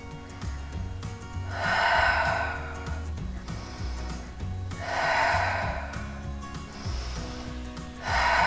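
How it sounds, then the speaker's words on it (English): Short, sharp exhales during a floor exercise that has the elbows pressed into the ground, coming in repeated bursts about every three seconds over steady background music. "Little short, sharp exhales."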